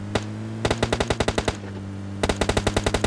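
Two bursts of rapid automatic gunfire in the mobile shooter PUBG Mobile Lite, sharp and loud: a long volley of closely spaced shots, a brief pause, then another fast string of shots.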